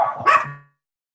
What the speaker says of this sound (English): There's going to be a little bit of barking.